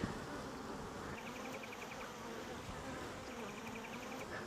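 Honey bees hum in a soft, constant buzz as they cover a Flow Hive frame during an early-spring hive split, faint and close, with individual bees droning past now and then.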